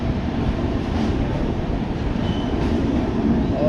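Golden Temple Mail 12903, Mumbai–Amritsar express train, picking up speed, heard as a steady, loud, dense rumble of wheels and carriages with no pauses and no voices.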